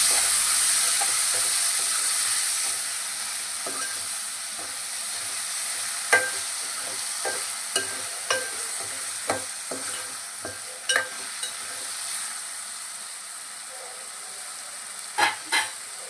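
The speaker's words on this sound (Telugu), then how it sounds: "ఇప్పుడు కొద్దిగా ఆయిల్ వేసుకొని పన్నీర్ ఫ్రై చేసుకోవాలి" Marinated paneer fries in oil with a steady, close hiss, broken by scattered sharp spatula taps and scrapes against the pan.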